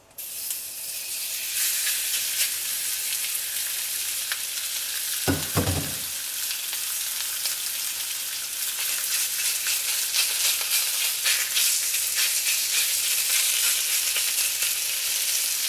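Beef sears in a hot oiled wok for beef with broccoli, a loud, steady sizzle that rises sharply at the start and holds throughout, with a brief clatter of the wok partway through and no talking.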